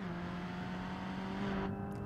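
A Cherrier Picnic hot hatch in the BeamNG driving game, its engine running steadily at high revs with a sustained engine drone that eases off near the end.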